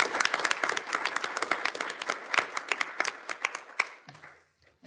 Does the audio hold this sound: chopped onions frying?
no